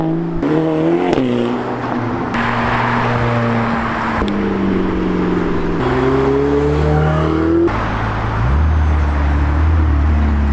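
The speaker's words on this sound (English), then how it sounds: "the car that just passed us here on Park Lane is of course the legendary Ferrari LaFerrari" A Ferrari LaFerrari supercar passes by on Park Lane in London, its engine swelling and shifting pitch over steady city traffic noise.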